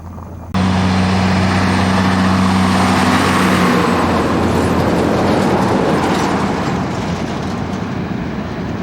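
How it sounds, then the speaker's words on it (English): A road train, a large multi-trailer truck, roars past on an outback highway: a sudden loud onset into a sustained heavy rumble with a brief droning tone, fading slightly as it goes. "They're the road trains."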